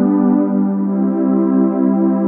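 A Roland GAIA SH-01 synthesizer plays a sustained pad built from a single tone, holding one steady, harmonically rich chord clearly and alone.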